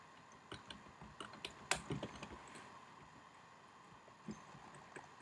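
Keystrokes tapped out on a computer keyboard while entering Cisco switch telnet configuration commands, a quiet, uneven run of clicks with a few louder clustered presses and pauses.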